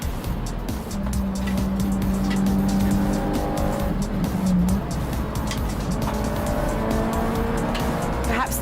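A Mazda race car drives on a track, its engine droning continuously at high revs with rising and falling pitch and brief tyre squeal, while someone talks over it.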